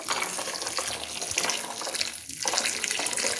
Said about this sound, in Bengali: গরম জল দিয়ে সোয়াবিনগুলোকে আমি ভিজিয়ে নিচ্ছি